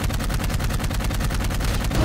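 Rapid automatic gunfire in Dark Void sprays at a gun turret, a loud, close, evenly spaced stream of shots running without a break.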